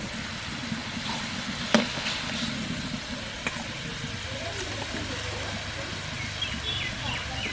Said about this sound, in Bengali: চিকেনটা যে ভেজে রেখেছিলাম সেই চিকেনটা এবার দিয়ে দেবো।